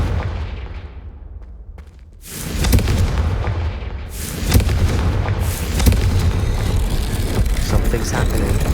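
A Confringo fire spell in Hogwarts Legacy detonates with a loud, sustained explosive roar that builds after a brief lull, rumbling on for several seconds with no speech.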